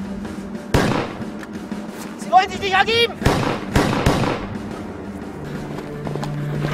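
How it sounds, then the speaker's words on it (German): Several gunshots ring out in a German-language radio drama battle scene with mounted soldiers: a few sharp, loud cracks spaced seconds apart, mixed with shouted speech and what seems to be a horse's whinny. "Darauf fallen mehrere Schüsse."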